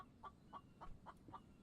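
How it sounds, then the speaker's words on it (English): Chicken clucking in the survival game The Infected, five evenly spaced, fairly faint clucks in a quick regular rhythm over low background noise. "I hear you, chicken, but I don't want you."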